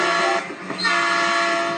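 Train running in the Train Simulator mobile game, a steady rumbling hum with sustained horn-like tones, briefly dipping before swelling back, heard alone with no talk.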